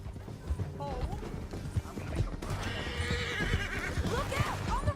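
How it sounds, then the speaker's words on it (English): Horse hooves clip-clopping at a gallop with whinnies and neighs in the Red Dead Redemption video game, loud and busy over a dense game mix, with faint talk underneath. "Get him on your horse. Down the canyon. Let's ride."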